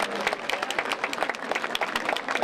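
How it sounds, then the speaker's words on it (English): A crowd claps steadily and densely throughout, with no break in the applause, at an outdoor flag raising ceremony at Fresno City Hall. "Yeah, you can applaud for Burge."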